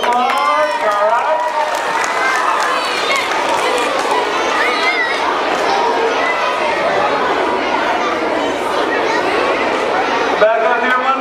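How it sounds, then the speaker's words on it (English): An audience of schoolchildren at an elementary school anti-bullying magic show claps and cheers in a loud, sustained burst of applause mixed with excited voices and chatter. "Big round of applause."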